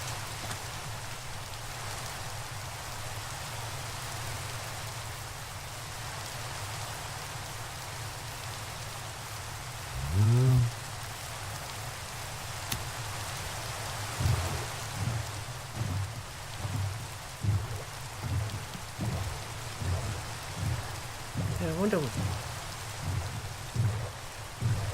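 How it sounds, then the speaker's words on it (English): Steady rain falls throughout a Minecraft game world, with rolling thunder rumbling in at around ten seconds and again in several lower booms toward the end, all without speech. "Yay, it's raining."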